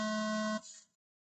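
A single sustained electronic race start tone at an off-road race, loud and steady for about half a second, then cut off with a brief fading tail.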